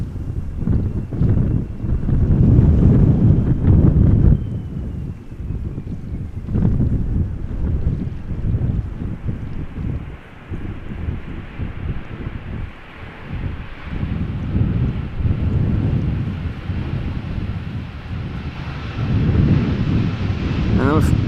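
Strong crosswind at Amsterdam Schiphol Airport buffets the microphone in low, gusty rushes that swell and ease throughout, with a faint aircraft tone and some talk in the background.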